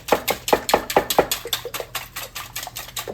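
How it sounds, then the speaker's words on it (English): Eggs whisked by hand in a bowl for a Texas pecan pie filling give quick, steady clinking and tapping strokes, close and fairly loud at first, then a little softer, with no talk. "We're going to mix these eggs up."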